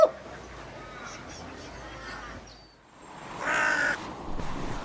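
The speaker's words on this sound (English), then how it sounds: "Caw refers to the sound made by a crow." A crow gives several harsh caws, the loudest burst coming near the end, moderately close against light background noise.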